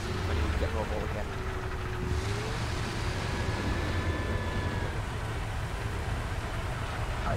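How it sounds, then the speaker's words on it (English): Tank engine starting up in War Thunder, a low rumbling drone with whining pitch sweeps, steady and fairly loud throughout under game ambience. "I'm gonna start my engine up also."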